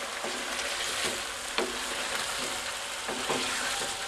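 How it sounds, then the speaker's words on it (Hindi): Chicken frying in a pan for koila karahi, a steady moderate sizzle with occasional stirring scrapes and clinks, close by and without talk. "अब हम इसको उतनी देर तक फ्राई करेंगे जब तक चिकन सुनहरी हो जाए"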